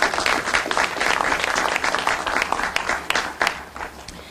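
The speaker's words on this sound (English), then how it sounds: "So let's give her a round of applause and come on up, please." Audience at a ribbon-cutting ceremony for a new emergency operations center clapping in a round of applause, a dense close patter with sharp individual claps standing out that thins toward the end.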